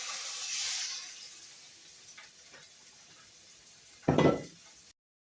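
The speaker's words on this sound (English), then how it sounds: "Now I'm going to fry the prawns in the frying pan just for a little minute" Prawns fry in a frying pan with a steady, faint sizzling hiss. A short, louder clatter of utensil against pan comes near the end before the sound cuts off.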